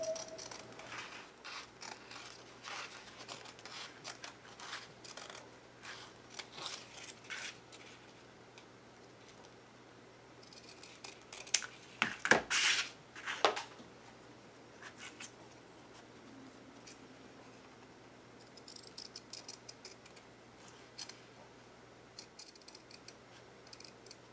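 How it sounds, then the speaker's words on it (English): Scissors snip out paper pieces for a mixed-media craft project, a string of soft, close crisp cuts scattered through a quiet room, with a louder cluster of snips near the middle. "I'm going to cut out all of the pieces"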